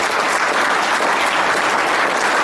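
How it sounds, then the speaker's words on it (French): Steady, dense applause from a sizable crowd at a public meeting, clapping continuously and evenly throughout without pauses. "Mais on l'applaudit très fort."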